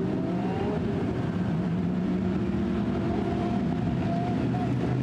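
GT race cars, a Ferrari among them, rumble together on a formation lap in the Blancpain GT Sports Club in Hungary, a steady low engine drone held at an even level throughout.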